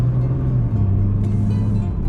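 A 2020 Nissan GT-R 50th Anniversary runs with a steady engine drone from inside the car, its pitch dropping smoothly at quick gear changes.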